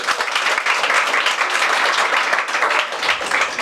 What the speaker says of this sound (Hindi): एक बार इसके लिए जोरदार तालियां बजा दी जाए।